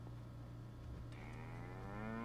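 Minecraft cow in the Resonant Rise modpack mooing once, a faint drawn-out low call over a steady electric hum and quiet game background.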